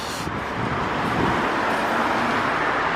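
Trucks roll past on a nearby road in a continuous loud wash of engine and tyre rumble with some wind, no distinct gaps between vehicles.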